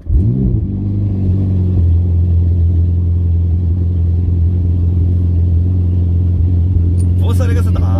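A Ferrari engine revs up briefly as the accelerator is pressed, then settles into a loud, steady low-pitched drone close by, with a short burst of other noise near the end.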